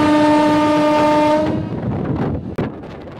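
A fast suburban local train on the Krishnanagar–Amghata route sounds a loud sustained horn, then rumbles on with rattling wheels and a sharp clack.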